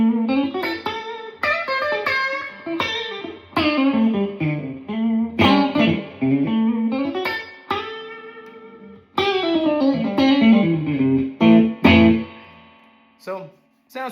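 B-bender Telecaster-style electric guitar switched to its single coil setting, playing a series of picked phrases and bends with effects, bright and close, in bursts separated by short pauses and no talking.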